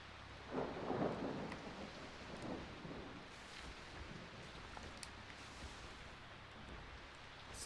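Thunder from a lightning storm in Jurassic Park: Operation Genesis, a low rolling rumble swelling early then fading under steady faint rain hiss, fairly quiet throughout.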